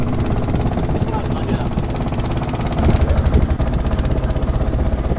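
Boat engine chugging during a boat journey along the ghats of Varanasi, a steady mid-pitched rhythmic knock that grows louder and more pronounced partway through, with a voice talking over it.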